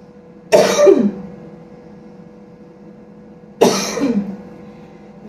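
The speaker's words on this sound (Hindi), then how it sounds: "उसके बाद आपको गहरी सांस लेनी है और सांस छोड़ते वक्त खांसी करनी है।" A person coughs deliberately while breathing out during a breathing exercise, two loud, close, forceful coughs about three seconds apart over faint background hum.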